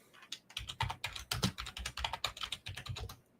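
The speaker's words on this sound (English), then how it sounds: "I was typing to tell you" Rapid, uneven keyboard typing, a steady run of close clicking keystrokes with short pauses, no voices.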